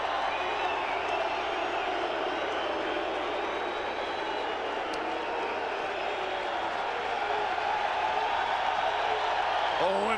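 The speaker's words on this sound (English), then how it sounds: "Listen to this crowd." A baseball crowd at Wrigley Field in Chicago during a 1995 Expos–Cubs game roars in a broad, sustained cheer, a distant, steady wash of many voices swelling slightly near the end.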